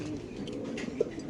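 A white male racer pigeon with a black tail, caged at a pigeon market, gives a soft, brief coo at close range over low background murmur.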